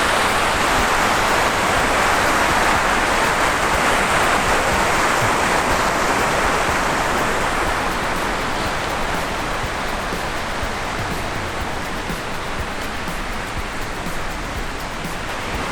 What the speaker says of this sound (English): That's a mini waterfall.